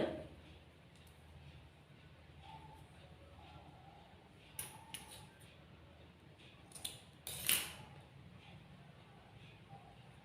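Scissors cutting layered fabric from a paper pattern for a pattu pavadai, with a few quiet, crisp snips scattered through a hushed room and a louder cluster of cuts near the end.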